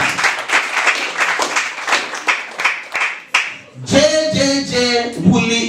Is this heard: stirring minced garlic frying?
no